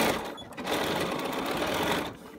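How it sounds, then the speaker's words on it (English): A sewing machine runs steadily, stitching the seams of a fabric container in one continuous whirring burst with a brief pause near the start, close and clear with no talking. "Line everything up as you sew."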